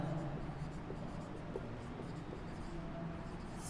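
Chalk or a marker scratches and taps across a classroom board in short, uneven strokes during a Sanskrit lesson, close and fairly faint, with no talking over it.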